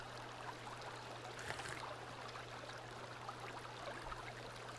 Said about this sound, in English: Some nice water flow right here.